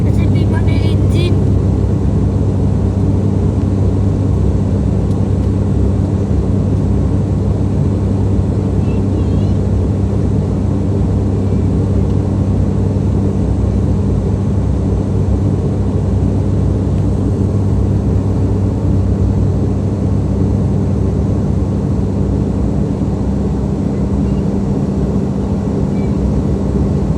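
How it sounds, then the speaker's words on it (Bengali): A plane descending toward Hazrat Shahjalal Airport in Dhaka produces a loud, steady engine drone heard from inside the cabin, unchanging and continuous throughout. "বিমানের ইঞ্জিন"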